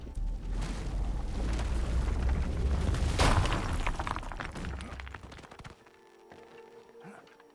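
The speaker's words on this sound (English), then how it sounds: "let's go ahead and do another rock explosion." A rock explosion in the video game RuneScape Dragon Wilds sets off a loud, deep boom with a rolling rumble of debris that slowly fades away over several seconds.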